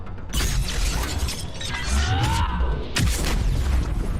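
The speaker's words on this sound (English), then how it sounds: "Frag grenade" Frag grenade blast in Mass Effect 3 amid loud sci-fi combat, a sharp shattering crash with booming low rumble and mechanical clatter, dense noise bursts recurring over about four seconds with faint game voices underneath.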